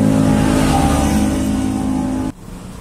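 A Suzuki Carry engine cranked on the starter, a loud, steady mechanical churning up close that cuts off abruptly near the end, leaving quiet.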